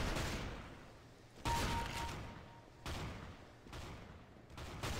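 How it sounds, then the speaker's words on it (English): Shotgun blasts in Counter-Strike GO played on PS3, four loud booming shots spaced about a second and a half apart, each trailing off in a short decay, with no talking. "I want to see how the shotgun is."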